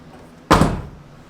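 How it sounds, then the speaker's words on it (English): A car door on a Honda build swings shut with a single solid, muffled thunk, close and loud against a quiet background. "look how this door closes. Look how sweet this door closes"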